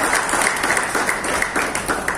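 An audience at a ceremony honouring sanitation workers claps together in a dense, lively burst of applause that holds steady for a couple of seconds.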